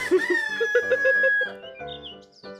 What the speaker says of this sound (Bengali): এর থেকে তো সকালে উঠে মোরগের ডাক শুনতে বেশি ভালো লাগে